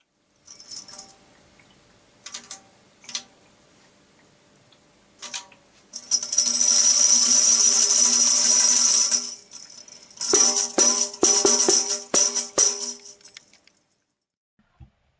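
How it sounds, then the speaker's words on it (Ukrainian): Tambourine metal jingles shaken in short bursts, then a long continuous rattling shake, followed by a series of sharp rhythmic jingling hits, fairly close and loud. "а у прорізах обруча встановлено малі металеві тарілочки, брязкальця"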